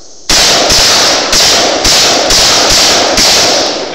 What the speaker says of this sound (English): first time shooting the AK